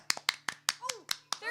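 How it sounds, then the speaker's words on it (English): Applause played back during a live online folk band show, a series of sharp separate hand claps in an uneven rhythm, fairly close and moderately loud, with a sliding tone and voices faintly beneath. "there's the applause"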